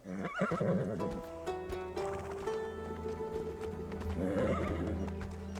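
A horse whinnies loudly up close, followed by a steady clip-clop of hooves and further snorting, in a Bollywood action film scene.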